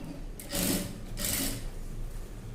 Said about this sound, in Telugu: ఇదంతా రౌండ్గా ఇదంతా స్టిచ్చింగ్ చేసుకుంటూ రావాలి.